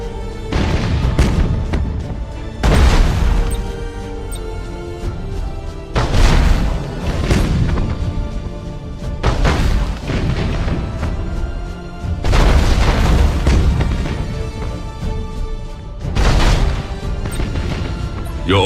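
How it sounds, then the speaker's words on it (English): Broadside macro cannons fire from a warship in the space strategy game Battlefleet Gothic Armada, heavy booming salvos in repeated loud bursts with rumbling tails, each several seconds long. "Broadside macro cannons ready to fire on your order"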